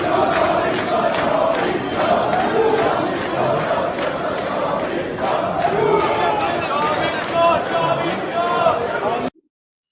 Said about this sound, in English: The crowd chanting, "Long live the king!